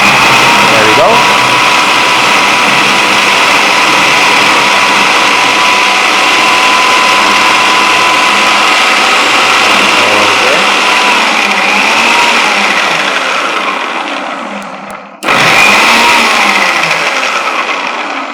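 A handheld Magic Mario chopper whirs steadily as it chops tomatoes, a loud continuous motor-like drone lasting most of the stretch, briefly cutting out near the end before starting up again.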